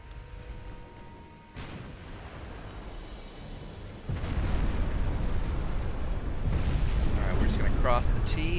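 In Ultimate Admiral Dreadnoughts, a warship blows up from a flash fire amid naval gunfire: several loud booming blasts and a roaring rumble build in stages over continuous battle noise, with talk also present.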